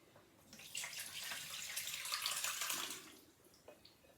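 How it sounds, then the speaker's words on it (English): Cold water pours and splashes over tapioca pearls in a sieve for a few seconds, a soft rushing flow that swells and then tapers off to drips. "Put some more cold water on them."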